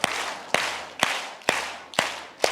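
A church congregation claps in slow, even unison, six loud sharp claps roughly half a second apart, fairly close and crisp with no talk over them.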